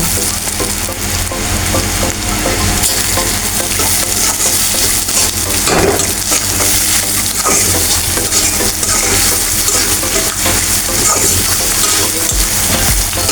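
A pan of onion and chili fries loudly and steadily, with constant sizzling and scraping stir strokes close up, no talk.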